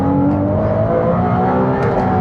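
A Ferrari 296 GTB Assetto Fiorano engine pulls hard in third gear, a loud steady rising drone heard from inside the cabin with no talk over it.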